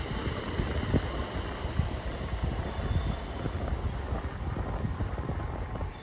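A Class 380 multiple unit departs a station at Paisley Gilmour Street, a broad whooshing rumble with gusts of wind buffeting the microphone, steady and fairly close, with no one talking.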